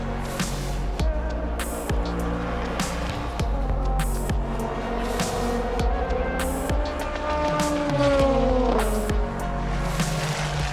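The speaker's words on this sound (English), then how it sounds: "We just got a full HKS high power exhaust." A race car's K-Series engine running through a full HKS high power exhaust, a loud, close, raspy drone whose pitch climbs and falls through revs, with no talking.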